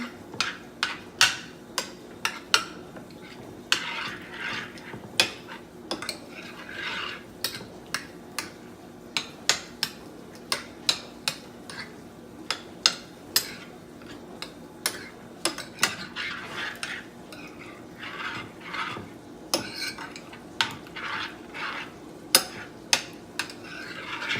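Corn dip ingredients being stirred in a bowl, a long run of sharp spoon taps and clicks against the side at an uneven rhythm, close and fairly quiet, with no talk over it.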